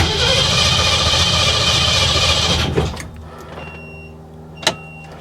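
An old car engine cranks on a GOOLOO GT4000S jump starter, a loud churning whir for under three seconds that cuts off without catching, followed by quiet with faint clicks and a short sharp mechanical knock.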